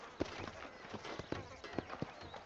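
Horse hooves clip-clopping in Red Dead Redemption, a steady run of thuds with a game score playing underneath.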